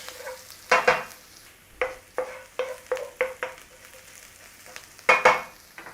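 Garlic and ginger frying in a pan, with a low steady sizzle under repeated sharp scraping and clinking of a utensil stirring against the pan, about nine strokes at uneven intervals.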